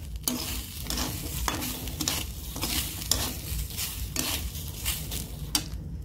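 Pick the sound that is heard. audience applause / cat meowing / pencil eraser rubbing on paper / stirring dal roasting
stirring dal roasting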